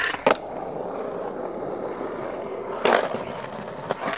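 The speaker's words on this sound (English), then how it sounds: "these trucks do sound kind of weird, man. They got this like weird tinny kind of sound." Skateboard trucks with forged base plates roll along a curb with a slightly tinny ring, a steady grinding roll broken by two sharp clacks as the board hits edges.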